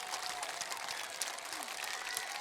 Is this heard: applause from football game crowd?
yes